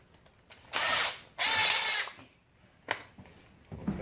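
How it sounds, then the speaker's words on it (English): A power drill drives screws into a wooden outdoor playhouse during assembly, with two sustained whirring bursts of about a second each, then a few short clicks and knocks. "drill."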